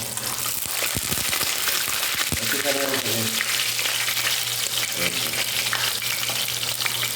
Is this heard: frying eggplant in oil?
yes